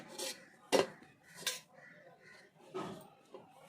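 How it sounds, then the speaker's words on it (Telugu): Trimming the extra edges off kajjikaya pastry, heard as a few quiet scraping taps and light metallic clicks against a board, soft and close, spaced irregularly. "దీన్ని తీసుకొని ఎక్స్ట్రా ఎడ్జెస్ని అయితే కట్ చేసుకుంటున్నాను"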